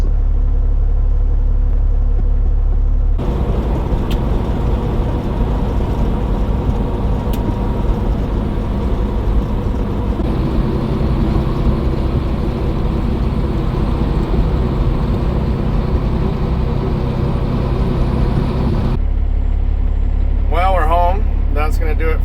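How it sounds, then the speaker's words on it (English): A truck, apparently loaded with sunflower seeds, idles at a grain scale with a steady low engine rumble throughout, while a voice talks over it near the end. "this truck is sitting here."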